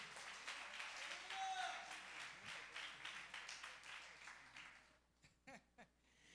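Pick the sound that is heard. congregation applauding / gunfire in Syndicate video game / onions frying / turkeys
congregation applauding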